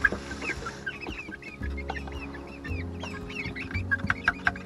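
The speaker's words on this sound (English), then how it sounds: "Check on these little chickies." Young chickens clucking and peeping near and far in a backyard coop with several birds calling in short overlapping bursts, over a steady low hum.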